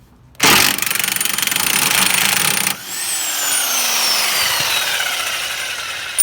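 A single-speed Harbor Freight power tool bites into wood with a loud, harsh rasping roar for about two seconds. It then cuts out to a spinning-down whine that fades slowly.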